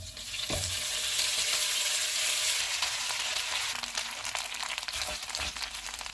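Spaghetti hits golden-fried garlic in a hot pan, bringing a bright, continuous sizzle and crackle with stirring rustles, close and unbroken throughout.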